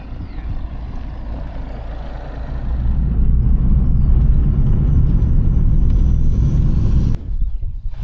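A car drives toward a glider airfield runway in Nowy Targ, its engine giving a steady low rumble that swells partway through, then cuts off abruptly near the end.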